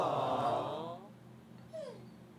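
A sleeping dog whimpers while dreaming, with a soft drawn-out whine at first and a brief, faint rising whimper later, heard close and quiet without speech.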